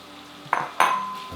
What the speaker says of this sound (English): We're gonna add in our shrimp.